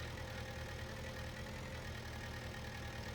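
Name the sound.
tractor engine idling in the video game Farming Simulator 19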